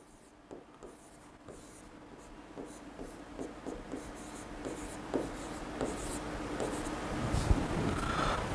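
Chalk or marker scratching across a board during a chemistry lecture on organic resonance, a run of short, irregular strokes and taps at moderate distance, with faint room noise and only slight hints of voice.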